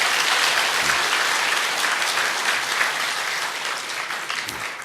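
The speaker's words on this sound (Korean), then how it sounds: "여러분 격려의 박수 보내주시기 바랍니다" A church congregation claps steadily in sustained, even applause of encouragement, filling the room with dense, continuous clapping that holds at a constant level from start to finish, with no voices standing out.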